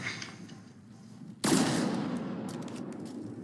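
A single sharp gunshot in a video game cracks out loud and close, followed by a long rolling echo that slowly fades under a low background rumble.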